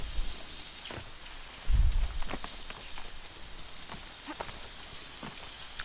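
Steady rain in the video game Horizon Zero Dawn, a constant hiss of falling drops with scattered patters and a brief low thud partway through, no talk.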